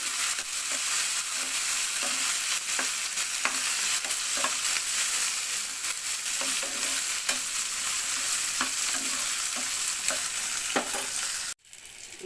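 Tomatoes fry in a pan for dhaba-style dal with a steady, loud sizzle, while a spoon stirs and scrapes the pan now and then. The sizzle cuts off abruptly near the end.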